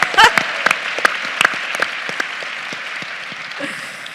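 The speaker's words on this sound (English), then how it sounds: "Let's give Zarina a round of applause." Applause from a keynote audience at a women's career conference, a burst of claps that starts loud, then gradually thins and fades over several seconds with scattered individual claps standing out.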